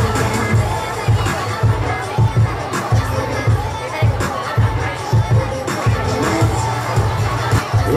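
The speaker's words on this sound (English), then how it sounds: "There you go, big cheer. Big round of applause." A large crowd at a Butlins girls' football presentation cheers and claps loudly and continuously, with children shouting and rhythmic applause bursts throughout.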